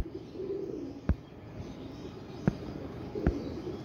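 Pigeons newly caught in pairs by a keeper calling out in a soft, low cooing murmur that runs through the clip, with a few sharp knocks or wing thumps breaking in at intervals.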